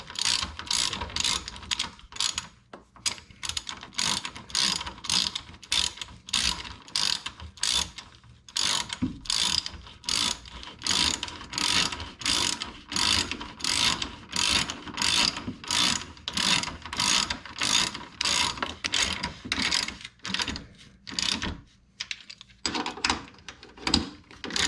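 A hand ratchet clicks in a fast, steady rhythm over and over while snugging bolts on a Mazda Protege5 during axle seal work, close up and loud, with a few brief pauses and no talk.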